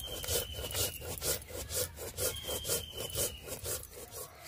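Dried chili and mustard seeds are ground together on a stone without water, making rhythmic back-and-forth scraping strokes, about two per second, close and fairly soft, alone with no voices.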